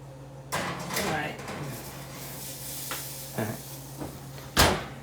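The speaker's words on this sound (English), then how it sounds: "into the oven it goes" Cast iron ramekins of French onion soup go into an oven heated to 450 degrees, with clunks and scrapes of the door and rack and a final bang as the oven door shuts, under a faint hum and some talk.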